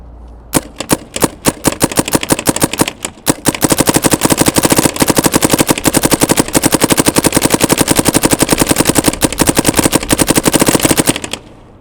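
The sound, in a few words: paintball gun firing paintballs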